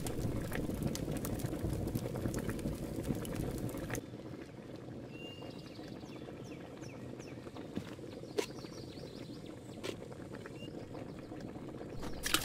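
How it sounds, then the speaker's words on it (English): A cauldron bubbles and simmers while food cooks over a fire in A Township Tale, a steady close boiling texture that thins slightly partway through, with occasional small pops and faint chirps behind. "Throw 4 pieces of food in the boiling cauldron and wait for it to finish cooking."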